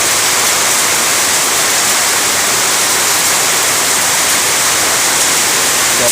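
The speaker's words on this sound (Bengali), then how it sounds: "আজকে দেখেন বৃষ্টি কেমন বৃষ্টি শুরু হয়েছে, তার সাথে সাথে শিলও পড়তেছে" Heavy rain mixed with falling hail makes a dense, loud, unbroken hiss that holds steady throughout with no voices.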